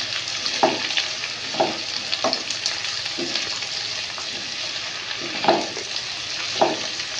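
Diced potatoes and chopped tomatoes sizzle steadily in a pan, with a continuous frying hiss broken by several sharp stirring scrapes at irregular intervals, close and moderately loud, no talking.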